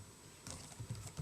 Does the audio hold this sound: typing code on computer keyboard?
yes